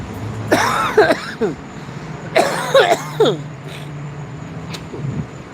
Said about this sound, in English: I hope I don't develop that cough again